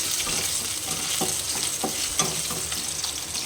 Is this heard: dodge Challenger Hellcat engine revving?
no